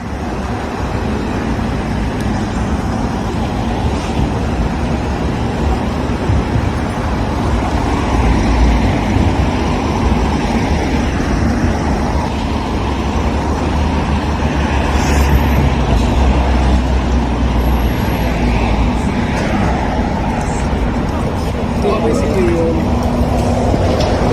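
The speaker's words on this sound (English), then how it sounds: "shouldn't leave your vehicle idling like that" A van's engine idling at the entrance to a petrol station, a steady low rumble running throughout with road traffic around it and people talking nearby.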